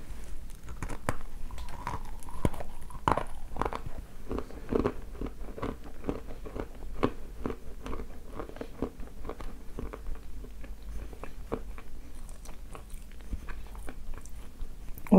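Edible clay, a coffee-colored variety, being bitten and crunched close up, with repeated sharp crunchy bites and chewing throughout, no talking.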